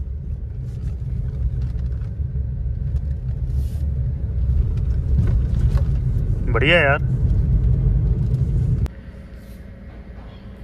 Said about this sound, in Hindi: बहुत ही उबड़ खाबड़ वाला रास्ता है, लेकिन भाई गाड़ी आराम से निकल गई